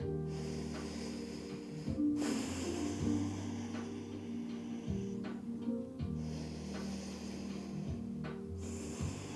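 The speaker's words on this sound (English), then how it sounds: "take a few deep breaths" Slow, deep breaths taken while resting in child's pose during a home yoga session for hips and shoulders. Heavy, close, airy inhales and exhales repeat every couple of seconds with no talking.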